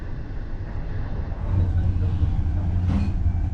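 Steady low rumble of a sleeper train rolling along smooth track between Xi'an and Beijing, China, a constant hum with a faint brief squeal near the end and no voices.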